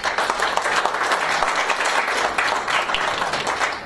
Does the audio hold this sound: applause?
yes